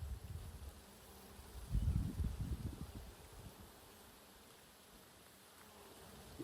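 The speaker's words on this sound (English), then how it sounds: "There's a lot more bees." A low, steady drone of honeybees around an opened hive hums throughout, swelling louder for a second or so before settling back into a soft continuous buzz.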